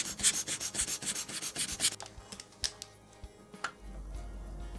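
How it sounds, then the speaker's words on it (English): Cleaning the case gasket of an Orient Power Reserve watch during casing makes quiet, close rhythmic rubbing strokes, about a dozen quick swipes, then a few sparse faint scrapes and taps with no talk. "I am cleaning the gasket."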